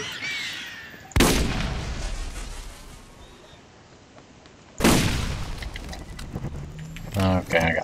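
Two loud gunshot blasts from the Borderlands shooter game, each a sharp burst decaying over a second or more, spaced several seconds apart, with brief clicks and mechanical noise near the end.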